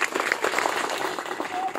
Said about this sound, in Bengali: সুদীপ্তা আর বিদীপ্তার জন্য আর একটা জোরে হাততালি হোক